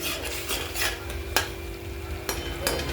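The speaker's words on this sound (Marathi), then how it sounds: "मसाला छान फ्राय झाला आहे आपला आता" Green chilli spice paste, still moist, fries in a pan while a utensil stirs and scrapes it, giving a steady rasping sizzle with a few sharper scrape clicks and no voices.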